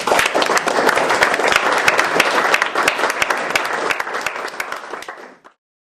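A lecture audience at UCLA gives a long, dense round of applause for author Harry Brant Chandler, loud and sustained before tapering off and stopping abruptly near the end.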